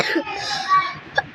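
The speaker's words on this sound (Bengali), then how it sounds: "সরি, আমার একটু কাশি উঠেছে।" A child's short cough bursts out in a room, two or three quick hacks near the start with a sharper one close to the end, against low background murmur.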